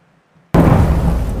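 Artillery fire on the Ukraine front line near Severodonetsk: after near silence, one sudden heavy boom hits hard and rolls on as a loud, deep rumble.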